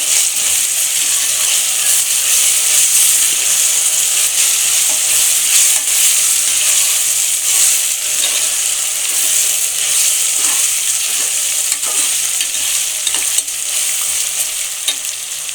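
Ginger garlic paste fries in a pan with a steady loud sizzle, stirred continuously with scraping, close and alone without voices.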